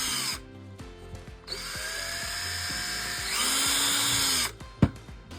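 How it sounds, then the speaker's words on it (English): A power drill boring a pilot hole into a 1/16 scale M901 ITV model tank, a steady high whine running for several seconds with a rising pitch near the end, followed by a sharp knock. "So I'm going to use a drill to make my pilot hole."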